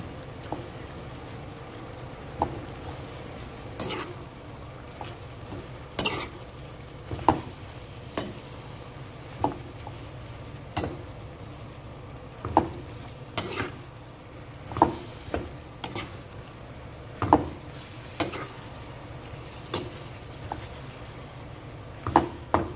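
Vegetables half-cooking in a pan for pancit canton, a steady low sizzle with a soft bubbling bed, broken by a regular series of sharp clinks and scrapes from stirring against the pan, close and alone with no voices.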